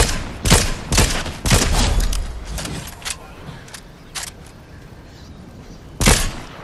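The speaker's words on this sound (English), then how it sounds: "Someone else shooting me" Repeated bursts of Fortnite gunfire in an online match, several sharp volleys clustered early, then scattered shots and a final loud burst near the end, with no talk over it.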